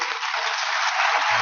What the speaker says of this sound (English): That was very warm applause